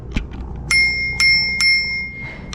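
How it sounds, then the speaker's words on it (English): Three bright, ringing dings from the handlebar bell of an ENGWE Engine X folding fat-tyre e-bike, evenly spaced and close, each with a lingering metallic tone over faint background rumble. "Oh, and it's got a bell, of course."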